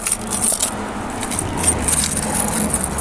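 The keys of a broken Rover 827 SLi jangle continuously and close up, with bright metallic clinking throughout, over a faint low background rumble.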